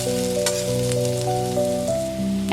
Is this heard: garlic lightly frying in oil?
yes